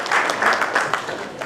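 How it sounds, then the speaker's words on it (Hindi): An audience at a women's event in Bikaner gives loud, dense applause to welcome Professor Shashi Verma, a steady wash of many hands clapping with no break for the whole stretch. "प्रोफेसर शशि वर्मा जी के लिए जोरदार तालियां बजाकर आप उनका वेलकम करिए।"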